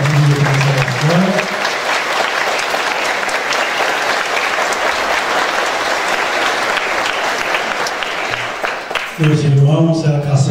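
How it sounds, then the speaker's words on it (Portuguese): A church congregation gives a sustained round of applause for a family from a cultural centre, dense clapping lasting several seconds, with a voice speaking at the start and again as it ends. "salva de palmas para a família da Casa da Cultura."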